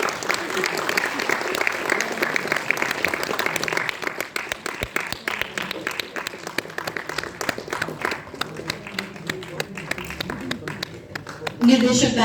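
An audience at a film premiere in a mall claps and applauds in a sustained burst of dense clapping that thins into scattered claps, with a voice speaking over it.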